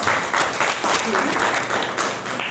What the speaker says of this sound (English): Please clap for that